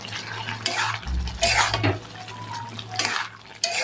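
Potato and cauliflower with poppy seed paste, turmeric and chili powder are stirred in a pot, with metal spoon scrapes and clinks against the pot over a low simmering hum.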